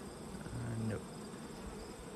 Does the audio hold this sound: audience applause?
no